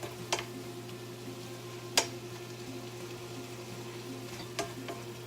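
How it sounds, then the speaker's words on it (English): Shredded meat sizzles in a pan on the stove, a steady quiet fry with a low hum and a few sharp ticks and clinks of a utensil against the pan. "as my meat is cooking down and it's shredded apart"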